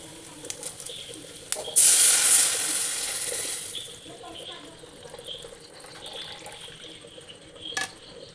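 Thick first-press coconut milk for moru curry is poured into a hot kadai, giving a sudden loud hissing sizzle that swells for about two seconds and then settles into a quieter simmer.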